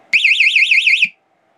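Warbling electronic alarm tone from a wired bomb prop sounds loud and steady for about a second, then cuts off abruptly, leaving silence.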